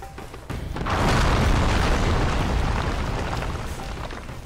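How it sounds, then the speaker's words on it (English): A floor gives way in Dark Souls, producing a loud, deep rumbling crash that swells in under a second and rolls on heavily for several seconds. "Floor collapsed."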